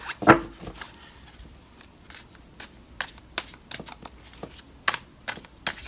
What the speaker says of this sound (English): shuffle these really well.